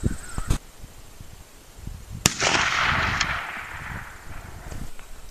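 Rifle shot from a 1917 Eddystone in .30-06 firing 150 grain full metal jacket rounds at a range, a sharp loud crack followed by a rolling echo that fades over a few seconds amid wind.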